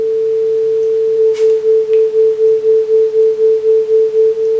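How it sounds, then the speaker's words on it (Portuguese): A steady 440 Hz sine tone joined by a second tone at 444 Hz, producing a loud pulsing beat of about four throbs per second that continues to the end. "Você vai perceber que o som vai ficar wom, wom, wom, wom."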